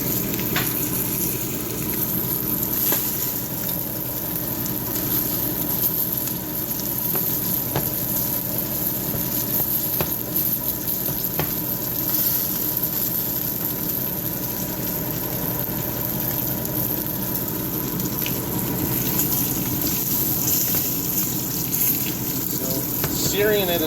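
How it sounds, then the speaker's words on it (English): Steak sears in a frying pan with a steady, close sizzle that holds for the whole stretch. "Searing it is the most important part, so we want to get it seared."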